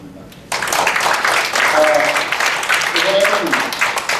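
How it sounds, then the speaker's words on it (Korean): An audience at a policy forum on arts and culture for children with disabilities begins clapping after a brief quiet moment, the applause swelling and holding steady while voices and brief tones sound faintly beneath. "다시 한번 감사의 박수 부탁드립니다."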